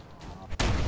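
A single sharp sniper rifle headshot in the video game Fallout 4 cracks abruptly after a quiet, low background hum, loud and close, with the blast ringing out to the end.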